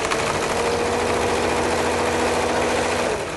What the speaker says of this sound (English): Start sewing, come down to the bottom, get your bottom points even.